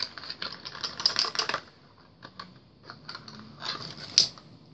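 Small clicks and taps from unscrewing the cap of a white nail polish bottle, a light cluster of close handling sounds, with a sharper click near the end; no talking.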